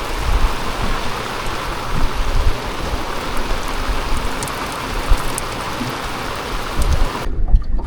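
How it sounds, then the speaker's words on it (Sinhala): Heavy rain pelts down at sea near Larrakeyah Bay during a fishing trip in stormy weather, a dense steady hiss with scattered louder drops, cutting out abruptly near the end. "ඇත්තට මේ වැස්ස"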